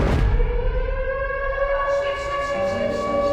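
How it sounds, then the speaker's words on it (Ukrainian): An air raid siren sounds as a loud, steady civil-defense wail, rising and sustained with no voices over it, close and dominant throughout. "Коли починається повітряна тривога, ми збираємо речі і спускаємося в укриття."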